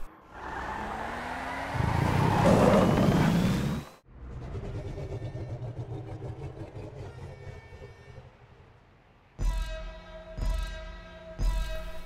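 A Pfister Neon electric car in GTA Online drives with a rising whoosh of tire and road noise that swells and cuts off, then a quieter rolling rumble, ending with a few sharp rhythmic clattering bursts.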